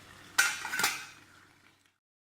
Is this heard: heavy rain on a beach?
no